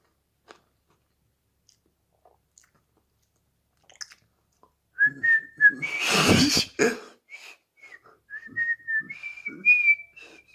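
Someone whistles a few short wavering high notes, near and fairly soft, after scattered small mouth noises and a burst of breathy coughing.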